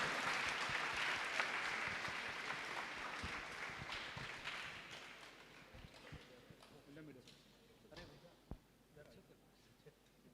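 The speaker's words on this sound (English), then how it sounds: "So huge round of applause for Mahesh sir." Audience applause at a university alumni and freshers meetup, loud clapping at first that gradually thins and fades, leaving a few scattered claps and room noise.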